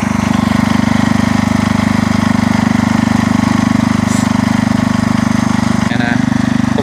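Sears Super SS 12 garden tractor with wheel chains chugging loudly while plowing a sandy garden, a steady low engine rumble with a brief rattle near the end; a voice comments faintly over it.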